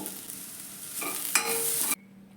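Vegetable momo stuffing mixed with sauces is stirred in a hot kadai, with close scraping strokes over a steady sizzle that swells briefly and then cuts off abruptly.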